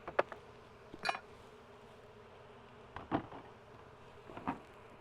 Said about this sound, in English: I'll dump these bees in here.